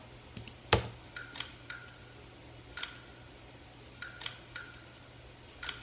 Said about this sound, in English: I made some rim clicks and tambourine samples here